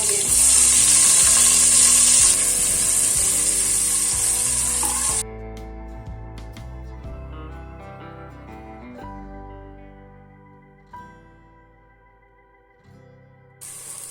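Onions frying with green chilies, peppercorns, shahjeera and bay leaf in a pressure cooker for chicken pulao give a loud, close, steady sizzle for about five seconds before it drops away beneath gentle background music.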